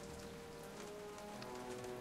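A rainstorm in a Jurassic Park video game: steady, dense rain patters on surfaces as a continuous soft hiss with faint scattered drop ticks, no voices.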